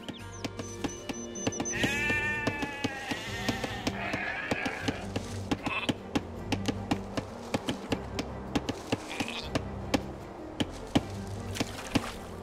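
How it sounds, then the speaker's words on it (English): A sheep bleats once in the video game Age of Empires II: Definitive Edition, a short wavering cry near the start amid repeated sharp chopping clicks and soft game ambience, without talk. "You've found some sheep."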